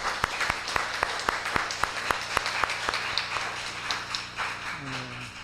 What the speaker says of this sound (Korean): 하나님께 영광의 박수 한번 올리겠습니다.